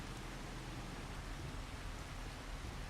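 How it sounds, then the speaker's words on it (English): Steady rain falling in the farming game Farming Simulator 25, a constant broadband hiss with no talk, moderately quiet and even throughout. "It should give me a warning if mowing in the rain"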